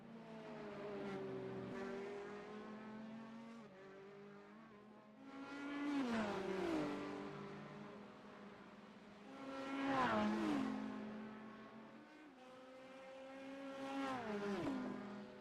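GT3 race cars, including a Corvette, roar through a sim racing video game, engines rising and falling in repeated upshift sweeps as cars pass, at moderate level with no talk.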